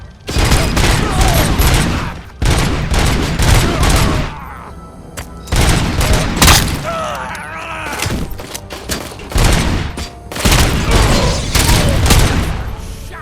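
Sustained bursts of rapid gunfire ring out in a RoboCop TV episode, loud dense volleys broken by short pauses, with crashing impacts and shouting voices mixed in between the barrages.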